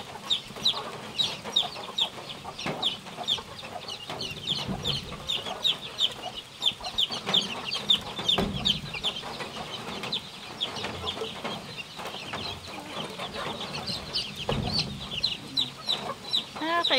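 Chicks and chickens clucking and peeping continuously, a dense busy chorus of many birds close by, with occasional handling noises underneath.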